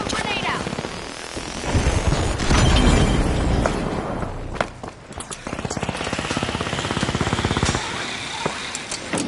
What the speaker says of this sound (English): Pyro grenade out!